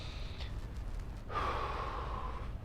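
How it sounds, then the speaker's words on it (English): A big inhale during an abs workout: a short breath near the start, then a long, loud, close drawn-in breath filling the second half. "Big inhale"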